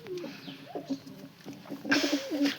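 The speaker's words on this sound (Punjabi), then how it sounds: "ਦੋਨੇ ਕਬੂਤਰ ਹੀ ਆ" A pair of pigeons coo close by in soft, repeated low bubbling calls that rise slightly toward the end, with no talking.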